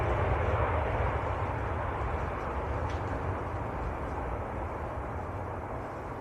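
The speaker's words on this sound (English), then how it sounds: "Definitely the noisiest aircraft here at Manchester at the moment." A loud aircraft takes off at Manchester Airport, its broad engine roar dense and rumbling, heard steadily from a moderate distance and fading slightly over a few seconds with no voices.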